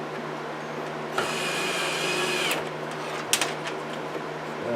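Power drill set to a low setting driving a screw through plastic near the windshield of a 1997 Mercury Grand Marquis during wiper motor replacement; a close, steady whir runs for about a second and a half, followed by faint clicks and small knocks.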